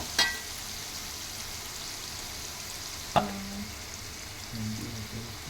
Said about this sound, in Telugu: అల్లం వెల్లుల్లి పేస్ట్ ఇట్లా ఆయిల్లో ఉండనివ్వాలి